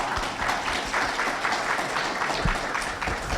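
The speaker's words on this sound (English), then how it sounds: "Maybe a big clap." Applause from a conference audience at a Q&A session in West Palm Beach, steady dense clapping from a large crowd lasting a few seconds, fairly loud and continuous without speech.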